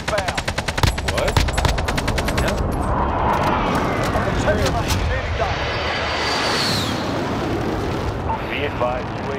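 Rapid machine-gun bursts open the first-person shooter battle, then heavy gunfire and explosions roll on at close range. A player talks throughout.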